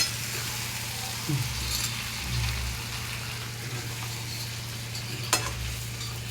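Fried ridge gourd pieces are stirred in a pan over a low gas flame, with steady sizzling and several scraping strokes and knocks of the spatula heard up close.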